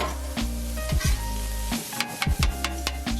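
Ground beef sizzles on a Blackstone griddle, a steady loud frying hiss broken by several sharp spatula scrapes and chopping strikes, with no voices.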